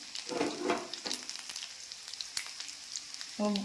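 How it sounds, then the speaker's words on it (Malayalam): Dried red chillies fry in oil with shallots and mustard seeds, giving a short burst of crackling, popping sizzle with scattered sharp ticks, close and fairly quiet. "മൂത്തതിന് ശേഷം നമുക്കിതിലേക്ക് വറ്റൽമുളക് ഇട്ട് കൊടുക്കാം"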